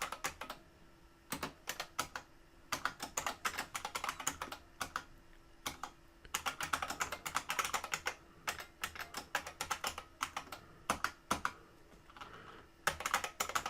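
Fast, uneven typing on a computer keyboard while an SQL subquery is written: dense bursts of close, crisp key clicks with short pauses between phrases, and no voices.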